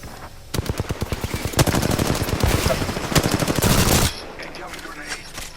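Rapid automatic gunfire in the Apex Legends video game, loud close bursts of dense machine-gun shots running almost continuously for several seconds before cutting off, followed by quieter game ambience.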